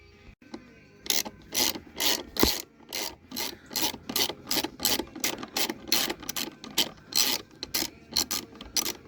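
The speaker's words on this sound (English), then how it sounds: "Bolt went right in. Get it pretty good and snug there." A bolt is ratcheted snug into a threaded hole on a 2012 Chrysler 300 car door during a vertical-door install, with a steady run of about two dozen close, rhythmic ratchet clicks and strokes, no talk.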